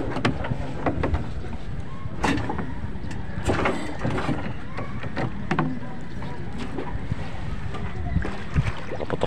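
A fishing boat engine runs with a steady low rumble and broadband noise at a fish corral off Mindoro, with scattered knocks and clatter and some voices talking over it.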